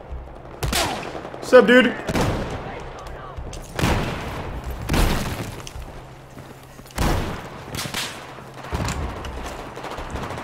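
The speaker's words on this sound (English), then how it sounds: "Grenade out! RPG out!" Explosions from grenades and an RPG boom amid gunfire in the video game Battlefield 4, a run of sharp heavy blasts spaced a second or two apart, loud and close, with brief talk mixed in.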